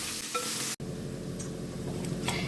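Thinly sliced onions sautéing in a pan for egg biryani, a steady sizzle with soft stirring scrapes. A brief dropout breaks it early, then the frying carries on evenly and close.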